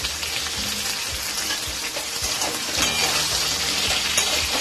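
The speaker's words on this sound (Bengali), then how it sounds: "কেটে রাখা কুমড়ো একসঙ্গে ভেজে নেব" Cut pumpkin pieces frying together in a pan give a steady, bright sizzle, with occasional soft clicks and scrapes from stirring scattered through.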